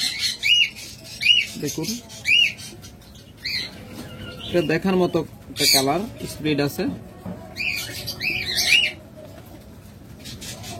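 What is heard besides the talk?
pet birds squawking in a bird shop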